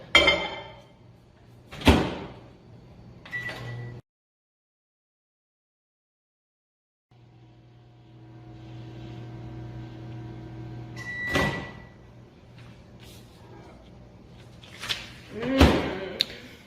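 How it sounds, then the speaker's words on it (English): A couple of sharp clunks of a microwave door shutting, separated by a silent gap, followed by a low steady hum and more thumps and clicks nearby. "Now you're ready to put your cake in the microwave for 2 minutes and 30 seconds."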